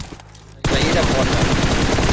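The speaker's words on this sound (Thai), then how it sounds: "มีคนยิง" Rapid automatic gunfire in the mobile battle-royale shooter PUBG Mobile bursts in abruptly after a brief quiet moment, then continues loud and close as a dense rattling stream of shots.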